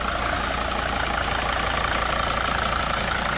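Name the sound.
T1N Sprinter van engine idling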